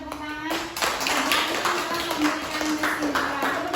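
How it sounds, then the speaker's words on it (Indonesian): Indonesian classroom students clapping hands together, a dense, steady patter of claps with voices mixed in throughout. "Berikan tepuk tangan."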